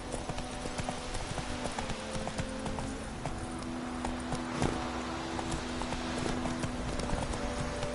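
Roach the horse galloping in The Witcher 3, a fast continuous clip-clop of hooves over steady background ambience, close and prominent throughout.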